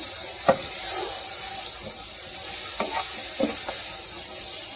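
Peppers cook down in a pan, sizzling steadily while a utensil stirs and tosses them in a few short scraping strokes, all close by with no talk.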